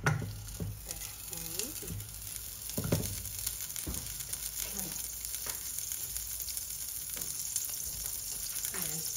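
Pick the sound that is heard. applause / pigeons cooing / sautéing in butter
sautéing in butter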